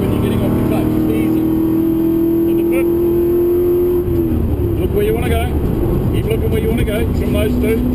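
A V8 race car engine on the track at Pukekohe holds a loud, steady drone as it accelerates at full throttle, with its pitch sliding through a gear change midway. An instructor talks over the engine noise.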